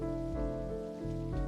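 Rain falling outside in Necrobarista, a steady soft hiss of drops under a sustained musical drone, brief and even.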